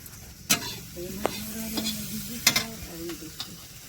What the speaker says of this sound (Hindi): तो हम सब जे छै छौंकै छी दाल।